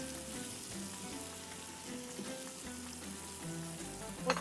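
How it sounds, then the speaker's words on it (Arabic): Onions frying in a pot give a steady close sizzle with faint stirring scrapes, fairly quiet, and no talking over it. "الحين راح ننزل البصل."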